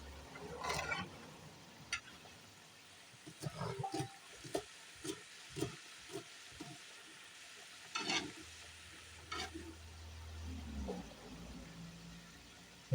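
Spring onions go into a pan with the juices from a resting steak, giving a soft, intermittent sizzle broken by light clacks and stirring, close and fairly quiet.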